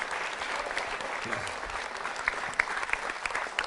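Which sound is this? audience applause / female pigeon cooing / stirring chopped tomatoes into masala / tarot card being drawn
audience applause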